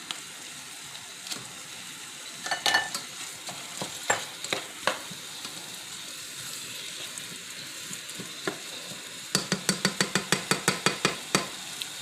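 Finely chopped onions and a cup of rice sizzle softly in a pan for cilantro lime rice, with scattered scraping taps of a stirring utensil that quicken into a rapid run of clicks near the end.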